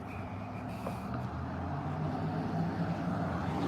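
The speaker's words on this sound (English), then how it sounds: "There's a loud truck coming right now." A truck passes by at night with a steady, low engine rumble that builds slightly and holds, heard from a moderate distance with no other sound on top.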